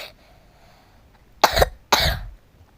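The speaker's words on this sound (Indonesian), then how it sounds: "Batuk lagi." Two sharp, close coughs come about half a second apart after a quiet stretch, the second slightly longer and rougher.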